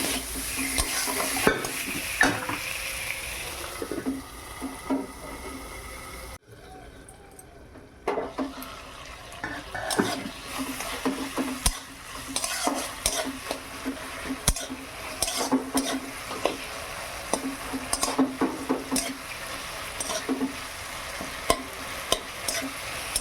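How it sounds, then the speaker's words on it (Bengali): Tomatoes with turmeric and salt sizzle and get stirred in a pan in a village kitchen, with steady frying hiss and repeated spatula scrapes and clinks close up, briefly quieting midway before resuming. "টমেটোটা দিয়ে আর একটু ভালোভাবে কষিয়ে নিতে হবে।"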